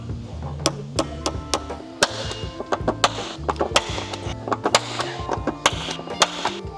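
A metal punch is struck repeatedly against a snorkel mounting bracket on a GWM Cannon, giving a series of sharp, irregular metallic taps and knocks, close and fairly loud, with no talking.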